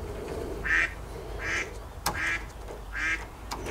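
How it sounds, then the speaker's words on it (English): Ducks quack four times in a steady, evenly spaced series, fairly close and clear over a quiet background. "Hear my ducks?"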